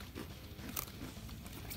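A crumbly cracker from a 2013 US humanitarian MRE, Menu No. 5, being bitten into, giving one short close crunch amid soft chewing and crackling.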